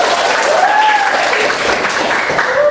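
Children in a classroom applaud together in a steady wash of clapping, loud and sustained, with a voice rising briefly above it.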